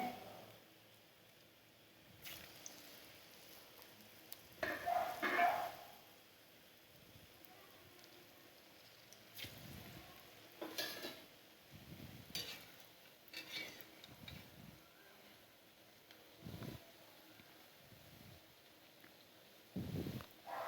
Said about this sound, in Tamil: ஒரு யூனிஃபார்மாக ப்ரௌனாக வர மாதிரி வறுத்து எடுத்து வச்சுக்கோங்க.